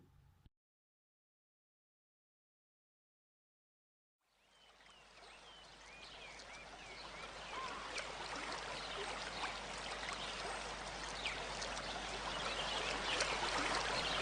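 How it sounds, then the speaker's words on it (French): Water runs from a PVC tube packed with drinking straws, forming a laminar jet. After about four seconds of silence, a steady, fairly close rushing flow starts and swells slightly louder, then holds on its own. "reproduire l'écoulement laminaire d'un jet d'eau"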